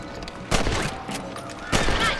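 Gunshots fired at rabbits in Red Dead Redemption, two distinct sharp reports about a second apart over quiet outdoor ambience, moderately loud with no talk.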